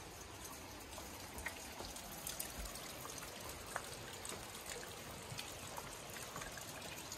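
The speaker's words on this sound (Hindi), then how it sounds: "रात से ऐसी बारिश हो रही है।" Steady rain falls in a small hill village in Mandi on a morning after raining since the night before, a soft continuous patter and trickle of water, faint and even, with no voices.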